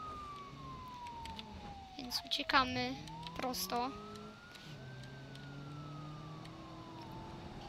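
Police car siren in the BeamNG driving game, a wailing tone sweeping up and down steadily beneath someone talking in Polish, with short bursts of other game noise midway.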